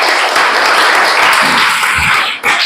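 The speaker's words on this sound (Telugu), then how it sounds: "చప్పట్లు కొట్టండి" A classroom bursts into applause for a winning quiz team, many hands clapping loudly and continuously for a few seconds before a brief dip at the end.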